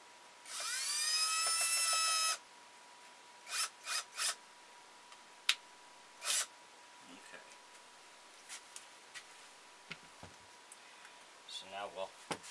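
A drill drives a screw into a wooden base, a loud whirring burst lasting about two seconds near the start, followed by scattered knocks and scrapes in a quiet room.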